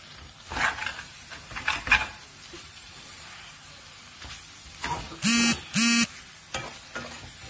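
Masala paste for a drumstick curry frying in oil, a soft sizzle under intermittent stirring scrapes, with two sharp, loud bursts near the end.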